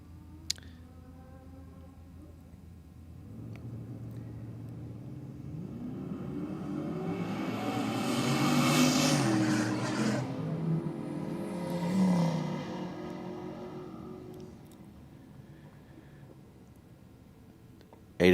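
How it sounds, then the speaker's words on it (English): A turbocharged Holden Commodore drag car at Sydney Dragway roars down the strip, its engine note swelling to a loud peak mid-run, surging again, then fading into the distance over steady track ambience. "Eden Bella and the Turbo Commodore."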